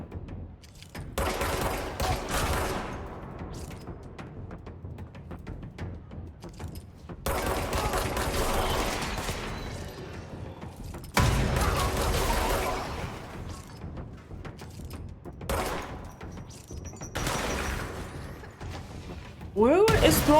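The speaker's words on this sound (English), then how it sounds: "Who is throwing these grenades?" Grenade explosions and gunfire in the video game Control, several loud blasts with rattling fusillades between them, separated by quieter stretches, with a voice talking over parts of it.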